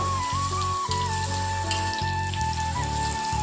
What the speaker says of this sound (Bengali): তেল গরম হয়ে গেছে, দিয়ে দেবো বেগুনগুলো। তো বেগুনগুলো লাল লাল করে ভেজে নেব।